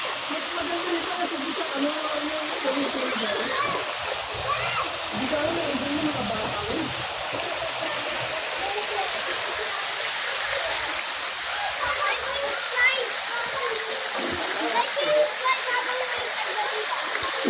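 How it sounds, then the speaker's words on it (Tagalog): Water gushes steadily from sombrero-shaped fountains at a wet-and-wild water park resort, a loud constant rushing hiss that fills the whole stretch, with faint voices murmuring underneath. "Mga sombrero, may tubig lumabas-labas."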